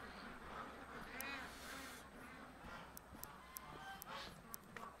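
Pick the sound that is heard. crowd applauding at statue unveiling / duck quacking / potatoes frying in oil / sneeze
duck quacking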